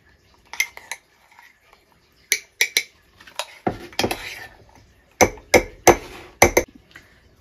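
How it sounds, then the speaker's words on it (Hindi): A spoon clinks and scrapes against a mug while mug cake batter is mixed, sharp metallic taps in quick uneven bursts separated by short pauses, close and loud with no talking. "तो ये मैंने इसमें डाल दिया है सारा बैटर, अच्छे से मिक्स कर लिया"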